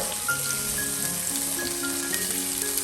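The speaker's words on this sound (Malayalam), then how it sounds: "ഈ പനീർ നെയ്യിൽ നന്നായിട്ടൊന്ന് ഷാലോ ഫ്രൈ ചെയ്തെടുക്കാം." Paneer straight from the freezer shallow frying in hot ghee, giving a steady close sizzle and crackle with scattered pops throughout, no voices.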